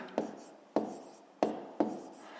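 Pen or pencil strokes on paper during a fifth-grade math exercise, four short scratchy bursts spaced evenly about two-thirds of a second apart, close and fairly quiet.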